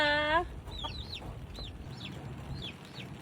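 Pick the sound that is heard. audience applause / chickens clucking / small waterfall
chickens clucking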